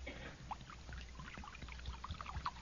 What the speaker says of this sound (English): Now I'm going to start pouring it now.